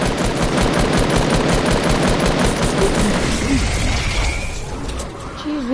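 Rapid gunfire from a PS4 video game, dense bursts of automatic shots filling the clip loudly and continuously before easing slightly near the end.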